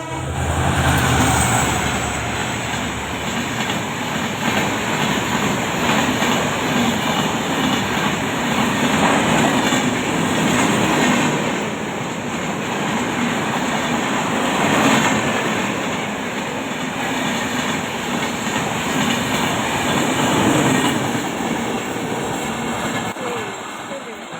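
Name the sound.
train arriving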